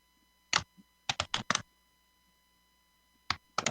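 Bursts of computer keyboard typing, alone and close, in short clustered runs of keystrokes separated by pauses, with a final flurry at the end.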